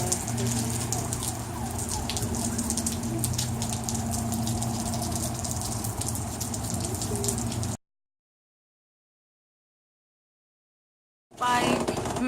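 Steady heavy rain falls outside on a rainy day in Arizona, a dense, even hiss over a low hum that cuts out to silence partway through, then briefly returns.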